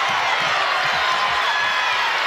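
A packed basketball arena crowd at a women's national championship game makes a loud, continuous roar and murmur that holds steady throughout, with faint talking mixed in.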